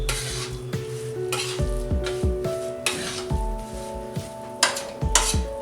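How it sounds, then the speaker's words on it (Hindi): Gond laddu flour mixture with chopped almonds is stirred in a heavy-bottomed kadhai, with loud, close, rhythmic scraping and metallic clinks of the ladle over a light frying sizzle. "मिश्रण को चलाते रहेंगे।"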